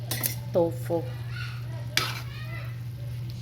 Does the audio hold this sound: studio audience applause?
no